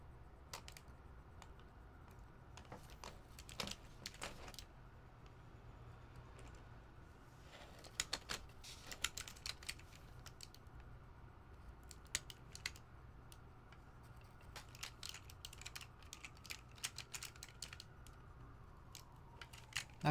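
Keycaps on a skeleton60 mechanical keyboard being built are pressed in irregular clusters of crisp clicks and clacks, close and fairly quiet over a low steady hum, with short pauses between bursts.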